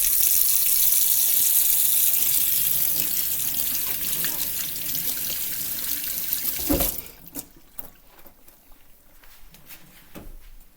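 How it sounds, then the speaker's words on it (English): Cold tap water runs steadily from a faucet over paprika being washed in a sink, a loud continuous splashing rush that cuts off abruptly partway through, leaving quieter handling sounds and drips. "first we need to wash it in cold water"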